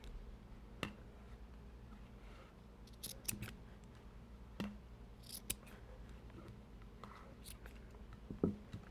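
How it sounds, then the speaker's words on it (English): Scissors snip ribbon in a few sharp, close cuts scattered over a quiet background. "then you would just come around with your scissors"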